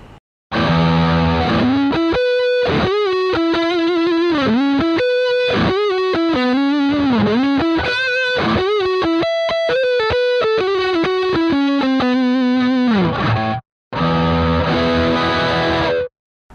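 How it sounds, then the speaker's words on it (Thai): Distorted electric guitar solo tone from a Headrush Gigboard preset, a sustained, heavily overdriven lead playing bending melodic phrases with brief gaps, loud and alone with no talking. "ต่อไปก็จะเป็นเสียงแตกนะครับอันนี้ก็จะเป็นใช้กับเพลงที่เป็นท่อนโซโล่นะ"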